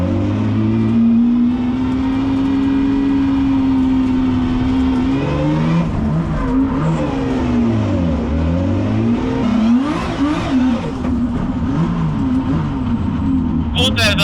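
Engine of a drift car in the pits at a Latvian track, running continuously and loudly with wavering, uneven revs that dip and recover, suggesting sputtering and misfiring, while people talk over it.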